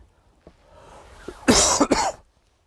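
In a dark, old inn, a couple of harsh, close coughs from someone with a cold burst out after a quiet stretch, loud and brief, following faint rustling and small noises.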